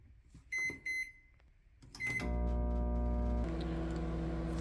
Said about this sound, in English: Place into your microwave and cook for 8 minutes.